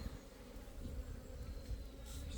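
Honeybees buzz in a steady, close drone around a beehive in autumn, a dense continuous hum with no talk.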